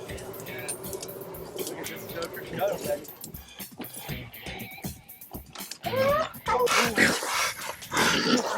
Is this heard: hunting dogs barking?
yes